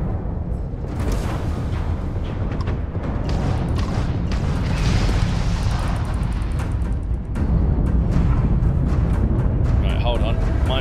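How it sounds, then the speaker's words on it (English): Missile batteries in Starfield fire and explode in a dense, continuous barrage of booms and rumbling blasts, heard beneath steady talking throughout. "those missile batteries are bloody effective"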